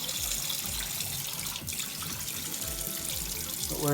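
Water runs and splashes steadily into a sink as lukewarm rinse water is drained off washed rice, close and continuous, with a brief gurgle as the pour ends.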